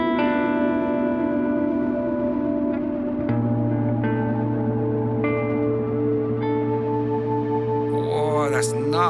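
Electric guitar through a BOSS GT-1000 delay effect, sustained chords and single notes ringing with echoing repeats and reverb, steady and loud throughout with a few fresh picked attacks and a swelling wash of repeats near the end.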